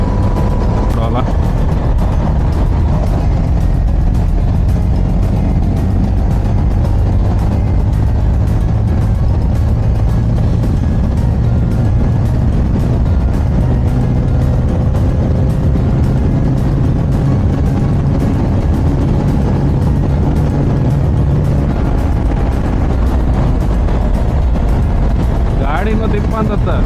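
A Hero Karizma XMR 210 motorcycle runs flat out on a straight road near Kundapura and Trasi, a sustained engine drone with heavy wind roar, rising pitch as it gains speed, and a rider talking over it.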